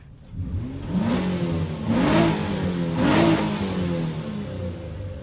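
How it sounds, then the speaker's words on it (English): A Nissan Altima car engine revs up three times in quick succession, each rise swelling loud and close before settling back to a steady idle. "let's give it some revs"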